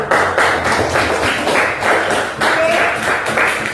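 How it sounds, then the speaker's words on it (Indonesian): A classroom of seventh-grade students claps for a group, several bursts of rhythmic hand clapping close by, with a brief spoken word in between. "Tepuk tangan dulu buat kelompok."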